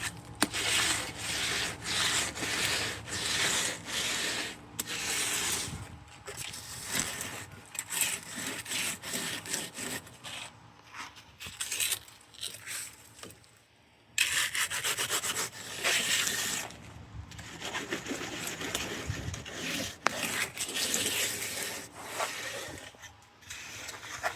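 Wet concrete with sand and larger stones being worked and troweled for a DIY countertop gives a steady scraping, rubbing texture in repeated strokes, close and fairly loud, with brief pauses and no talk.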